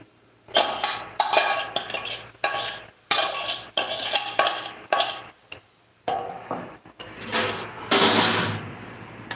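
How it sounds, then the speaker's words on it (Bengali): Egg being stirred into milk in a bowl, a utensil clinking and scraping against the dish in fast, uneven bursts with short pauses, close and fairly loud, no talking. "এখন খুব ভালোভাবে দুধের সাথে ডিমের এই মিশ্রণটা কিন্তু আমি সুন্দরভাবে মিশিয়ে দেবো"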